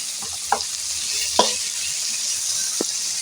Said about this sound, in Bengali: এবারে দিয়ে দেব টমেটো কাটা